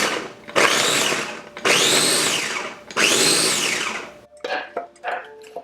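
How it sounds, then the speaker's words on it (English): A Ninja food processor chops garlic for a chow mein sauce in three loud, close whirring pulses about a second each, followed by a few short rattling bursts as the bowl settles. "it's all going into my trusty Ninja Foodie processor"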